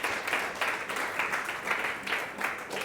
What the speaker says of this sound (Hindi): आइए जोरदार ताली से उस खुदाबंद यीशु मसीह को धन्यवाद दें.